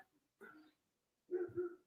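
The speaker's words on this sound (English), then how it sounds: "Oh, fucking dog." A dog barks twice indoors, faint and somewhat distant, two short separated barks against quiet.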